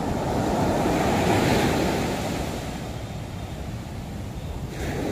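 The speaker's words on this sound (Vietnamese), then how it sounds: "Sóng hiện tại là sóng biển đang rất là lớn luôn nè" Large sea waves roll onto the beach at Nha Trang, Vietnam, a loud, continuous surf roar mixed with wind buffeting the microphone, swelling at first and then easing slightly.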